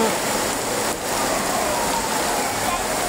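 Heavy evening rain pouring steadily outdoors on a street, a dense unbroken hiss of falling water filling the scene at an even level, with no voices.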